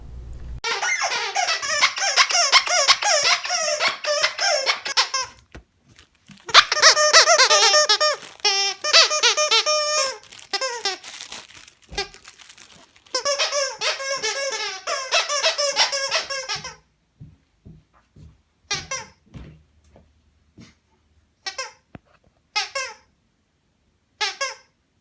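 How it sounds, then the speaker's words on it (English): Dalmatian dog chewing a squeaky toy, producing rapid bursts of high, shrill squeaks in dense runs that thin out into short, scattered squeaks near the end, close and fairly loud with no talking. "a little compilation of Milo playing with his squeaky toy"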